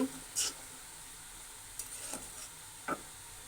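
Spoon scraping through cumin and turmeric in a pan while cooking egg bhuna, a few short separate scrapes spread over the moment with a faint hiss of oil in between.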